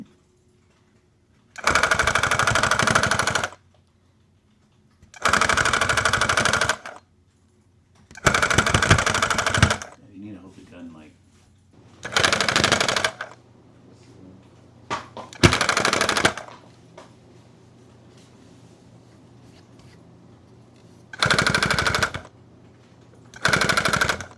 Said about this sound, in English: Let's see how this gun takes off on this side.